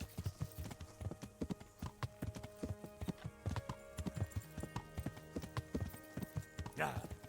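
Horse hooves clip-clop steadily in a video game set in stormy Bohemia, a fast, close and quite faint rhythm of hoof strikes. Voices talk over it and a brief whinny comes near the end.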